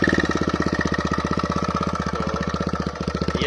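A motorcycle fitted with a custom exhaust idles at normal revs, its steady rapid pulsing beat close and continuous, with no talk over it.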